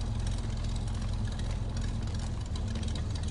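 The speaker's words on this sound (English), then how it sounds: "Listen to that engine." A 1960 Chevrolet El Camino's restored engine idles in a steady, low rumbling drone, close and continuous with a slight rhythmic knock, with no voices over it.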